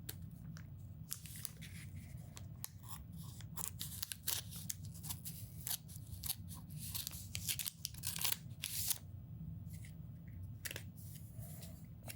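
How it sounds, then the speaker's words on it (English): Repeated crisp snips of scissors cutting, close up, in an irregular rhythm over a steady low hum, with no talking. "we've got some scissors today"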